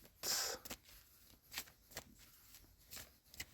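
A deck of cards being shuffled by hand in several short papery bursts: one loud riffle near the start, then softer flicks and rustles spaced out over a few seconds, close and clear with no voices.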